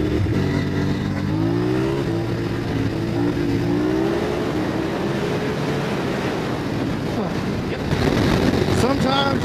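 Motorcycle riding on an interstate in traffic, with a steady loud engine drone and rising, shifting engine tones throughout, close and continuous under heavy wind noise.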